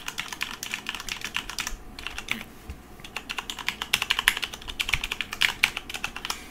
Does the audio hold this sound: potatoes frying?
no